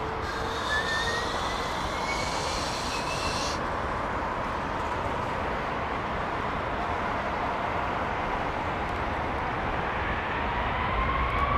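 Pratt & Whitney engines on an airliner spool up at startup, a steady loud broadband roar with rising whine tones; a high whistle stops partway through, leaving a continuous deep rumble.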